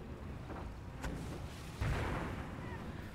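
Muffled distant booms from a mortar barrage with an incendiary effect in Company of Heroes on the Lorraine map, a soft thud followed by a heavier rumbling blast under a steady background of battle noise.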